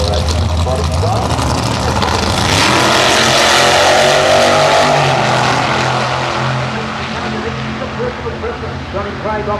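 A V8 altered drag racing car with a front-engine chassis roars loudly at Perth Motorplex, its engine note rising and swelling before easing off, with a commentator talking over it.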